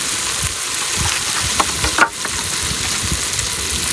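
Ginger garlic paste frying in a cooking pot over a firewood fire in a farm setting, a steady close sizzle with faint scraping stir strokes throughout, no talk.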